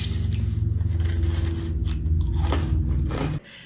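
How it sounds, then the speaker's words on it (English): Crunchy food being bitten and chewed up close, with loud, rhythmic crunching and grinding that stops abruptly near the end. "it's just something about the sound of the crunch"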